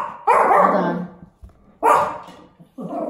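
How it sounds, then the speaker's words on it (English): A dog barks close by in loud, drawn-out bursts, two long barks and the start of a third with short pauses between, and no talking. "I'm sorry. That's my dog."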